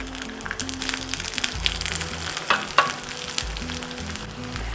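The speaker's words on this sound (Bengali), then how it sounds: "রসুনটাকে এইভাবে নাড়াচাড়া করে নিচ্ছি।" Garlic cloves sizzle in hot mustard oil in a flat pan, stirred steadily with scraping clicks and crackles over a constant frying hiss, close and moderately loud, no voices.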